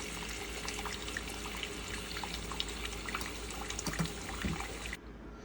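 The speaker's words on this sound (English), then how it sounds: "fill it with water till the potatoes are just covered" Tap water runs steadily into a pot of potatoes, a soft continuous trickling and splashing at close range that carries on evenly, then drops away sharply near the end.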